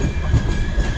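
An Indian express train on the Konkan Railway near Chiplun rumbles along with a steady low roll and faint rail hum, close and continuous.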